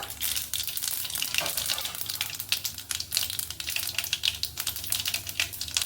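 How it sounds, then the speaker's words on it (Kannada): Mustard seeds and cumin spluttering in hot oil, a dense crackle of rapid pops and sizzles that runs steadily for several seconds, close and fairly loud, with no voices. "ಅದಕ್ಕೆ ಒಂದು ಅರ್ಧ ಸ್ಪೂನು ಸಾಸಿವೆ, ಒಂದು ಅರ್ಧ ಸ್ಪೂನು ಜೀರಿಗೆ ಹಾಕ್ಕೊಳ್ತೀನಿ. ಇದಕ್ಕೆ ಸಿಡಿಬೇಕು."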